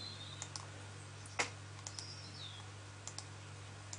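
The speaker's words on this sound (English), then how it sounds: "clicking and dropping little markers" Computer mouse clicks placing cut-line markers in Silhouette Cameo software, a few sparse, quiet, close clicks spread irregularly over a low steady hum, no talking.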